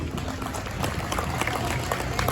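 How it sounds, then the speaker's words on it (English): Crowd applause for seniors at a regional fair heifer show, a steady, moderately faint patter of many hands clapping throughout. "Let's give these seniors a big round of applause."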